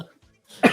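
A man gives one sharp, close cough during a slot car racing session, after a faint breath.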